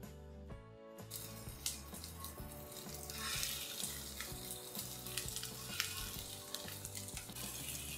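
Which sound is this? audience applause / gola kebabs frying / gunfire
gola kebabs frying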